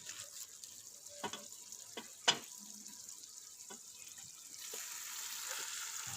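Mutton fries in desi ghee with ground spices, a quiet, even sizzle marked by a few sharp spoon clinks and scrapes as it is stirred, one knock louder than the rest, and no voices.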